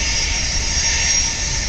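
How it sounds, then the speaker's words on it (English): A Southwest Airlines Boeing 737 aborting its landing: a loud, steady roar of jet engines under power, broad and continuous throughout with no talk. "that Southwest is coming in for a landing and aborted the landing."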